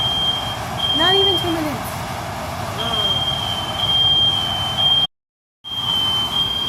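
A household smoke detector in a kitchen, set off by cooking smoke while making ziti, emits a continuous high shrill tone in long stretches, with someone talking over it and background noise throughout.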